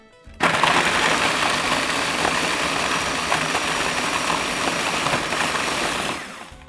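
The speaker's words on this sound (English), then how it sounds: "I'm going to put 250 grams of that into my food processor and I'm going to blitz it up until it's a fine crumb." A food processor blitzes malted biscuits into fine crumbs, starting abruptly with a loud steady whirring grind that holds evenly for about six seconds before spinning down, no voices.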